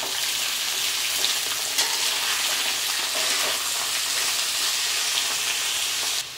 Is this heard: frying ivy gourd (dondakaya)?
yes